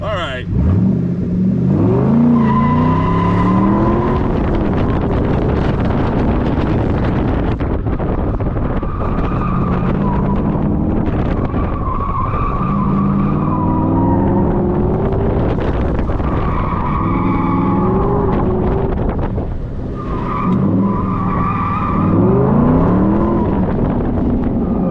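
A Ford Mustang Mach 1 races around a course with a loud engine that revs and drones throughout, and its tires squeal and skid repeatedly, while people talk over the noise.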